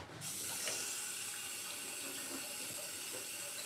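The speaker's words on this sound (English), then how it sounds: "I'm going to run water for a second." Water pours steadily from a tap into a sink during a cleanup after acrylic paint pouring, a continuous broadband rush that starts abruptly and holds at an even level throughout.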